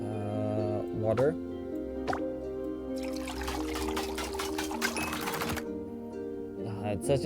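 Water poured in The Witch's Bakery game: a broad, fizzy splashing pour running roughly two and a half seconds under soft game music, with short spoken words around it.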